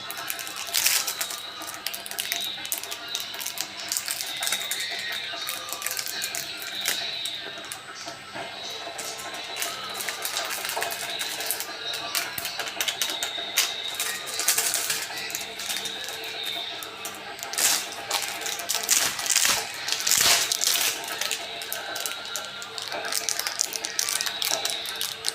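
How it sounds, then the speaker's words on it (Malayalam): A hand-operated noodle press forces dough out in a steady grinding, ratcheting run of mechanical clicks and creaks, close and continuous throughout, with no talking. "നമുക്കല്ലേ നൂഡിൽസ് ഒന്ന് കുത്തി കൊടുക്കാം."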